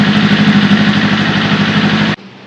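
A motorcycle fitted with an aftermarket exhaust idles loudly up close, a rough steady burble that cuts off abruptly after about two seconds.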